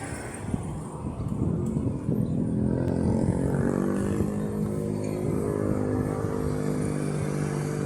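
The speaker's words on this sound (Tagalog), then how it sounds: "Nako, dami tricycle. Traffic pa yata." Motorized tricycles crowd a congested street, their small engines droning and revving nearby in a sustained, rising roar with wind buffeting the microphone.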